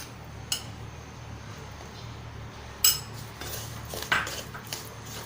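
Besan being roasted with ghee in a pan for besan ladoo, stirred with a spoon: a few sparse metal clinks and scrapes against the pan over a low steady hum, fairly quiet with no voices.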